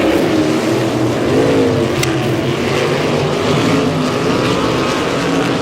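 Sprint cars roar around the dirt oval at Humboldt Speedway during a POWRi WAR heat race, engines blaring loud and steady with no break over the whole stretch.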